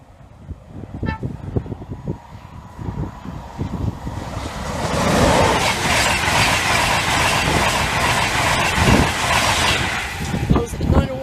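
An intercity train from King's Cross to Edinburgh Waverley passing Frinkley Lane foot crossing, horn sounding as it approaches, then a loud sustained roar and rattle of carriages rushing close by for several seconds, with a voice talking early on.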